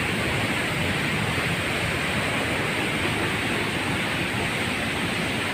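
Dense, steady roar of a muddy, typhoon-swollen river in Bataan, loud and unbroken throughout, surging close by.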